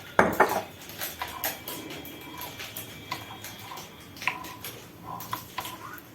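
Light clinks and scrapes of a plastic spoon against a dish of sauce, a few sharp taps followed by softer scooping sounds, close by with no talking.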